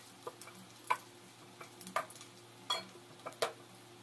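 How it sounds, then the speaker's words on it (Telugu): Chopped green chillies are stirred into onions frying in a pan for an Andhra-style mutton curry, with faint sizzling under a series of sharp spoon clinks and scrapes spaced irregularly across the stretch, no talking. "ఒక నిమిషం వేగిన తర్వాత కట్ చేసిన పచ్చిమిర్చిని కూడా వేసి ఒకసారి కలుపుకుందాం."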